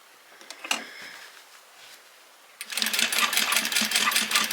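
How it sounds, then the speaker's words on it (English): A sewing machine stitches a fabric scrunchie, starting after a couple of seconds of quiet handling and then running in a fast, steady, close-up whir of rapid needle strokes until the end. "we're going to sew it straight down and across"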